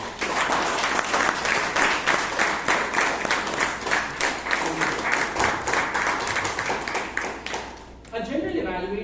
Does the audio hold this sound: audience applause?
yes